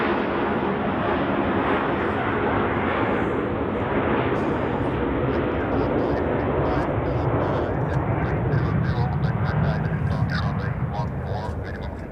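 A US Air Force C-17 flies a holding pattern near Zurich Airport in winter, its loud, continuous rumbling engine roar filling the scene steadily and fading slightly at the end, with voices faintly mixed in.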